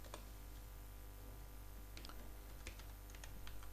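Someone types a command on a computer keyboard: a quiet, uneven run of light key clicks over a low steady hum, with no talking.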